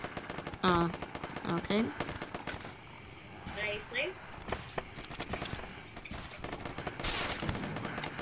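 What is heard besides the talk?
gunfire shooting zombies in video game Zombs Royale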